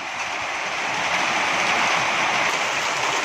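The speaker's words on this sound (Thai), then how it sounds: "ฝนตกค่ะพี่น้อง" Steady rain falls at a rural Thai home in a continuous, dense hiss that stays loud and even throughout, with no voices.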